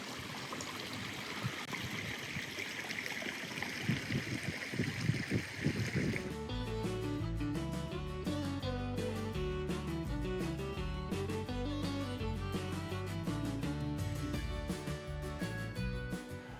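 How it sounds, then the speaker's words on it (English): A stream runs through Maine forestland with a soft, broad rushing trickle for several seconds, then music enters and takes over the rest. "a place to sit around and listen to that water running"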